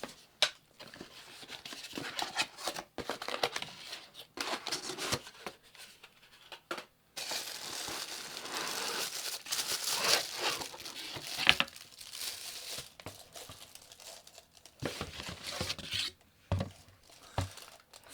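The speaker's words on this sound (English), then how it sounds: "Let's open the package." Crinkling and tearing of plastic and cardboard packaging as a Hamilton Beach personal single-serve blender is unboxed, close and fairly quiet, in irregular bursts of rustling and ripping with short pauses.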